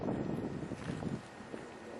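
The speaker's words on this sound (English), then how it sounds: "but it's pretty windy too." Wind from a winter snowstorm gusts and buffets the microphone, giving a rough low roar that eases off partway through.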